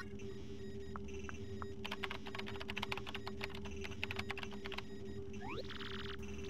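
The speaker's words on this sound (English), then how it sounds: "Use the keyboard to send whatever message you want." Keyboard typing in Paper Mario: The Thousand-Year Door, a steady burst of quick key clicks over a constant electronic game hum and tones, ending with a rising chime.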